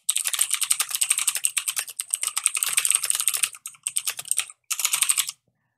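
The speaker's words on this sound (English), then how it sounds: "Now, I'm just going to type a line." Rapid typing on a computer keyboard, dense clattering keystrokes in bursts with a couple of short pauses, close and alone.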